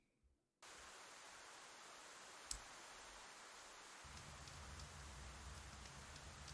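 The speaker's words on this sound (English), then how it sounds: "Also transition the sound effects over to the rain." A steady rain sound effect starts abruptly after a brief quiet moment and keeps up as a soft, even patter with occasional sharper drops, played during a tabletop role-playing game session.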